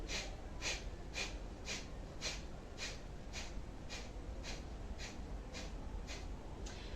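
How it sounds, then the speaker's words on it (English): Sharp, forceful pranayama breathing, rapid rhythmic exhalation jerks repeating about every half second for several seconds, close but fairly quiet. "So inhale and exhale."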